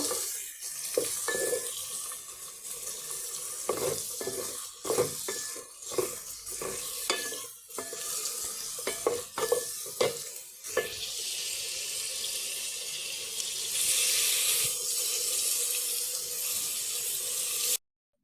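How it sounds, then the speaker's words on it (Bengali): Chopped onion, garlic, green chilli and cubed tomato fry with dried fish in a pan, a close sizzle broken by repeated scraping strokes of a spatula, growing to a steadier hiss toward the end. "পেঁয়াজ কুচি রসুন কুচি কাঁচামরিচ চিড়ে রেখেছিলাম সেগুলো আর টমেটো কিউব করে এবারে একটু ভালো করে নেড়ে চেড়ে দিব"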